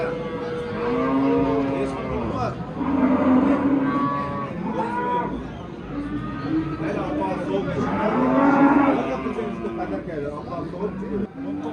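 A cow moos repeatedly at a livestock market in Bakhmal, Jizzakh, with drawn-out calls rising and falling over steady crowd chatter and nearby voices.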